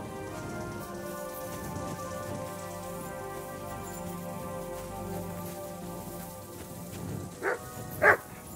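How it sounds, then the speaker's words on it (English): A dog in Red Dead Redemption 2 gives two short barks near the end, loud and close over steady rainfall that fills the whole stretch. "Mutt! You silly mutt."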